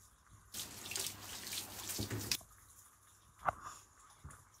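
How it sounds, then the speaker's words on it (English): Water from a garden hose gushing through a filter pipe during cleaning, a steady loud rush lasting about two seconds before cutting off, followed by a few faint drips and small knocks. "Put this hose into it. Turn the hose on."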